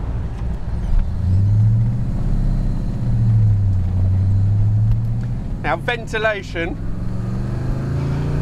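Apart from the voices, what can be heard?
De Tomaso Pantera engine heard through open window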